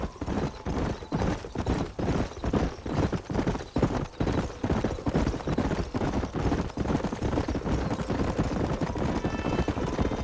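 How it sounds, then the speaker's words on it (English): Horses galloping in the video game Red Dead Redemption, a fast, loud stream of rhythmic hoofbeats pounding continuously and close up, with occasional faint whinnies mixed in. "There's the horses!"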